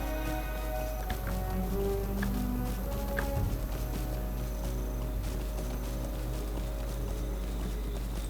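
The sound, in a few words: horse hooves clip-clopping in Lord of the Rings Online, video game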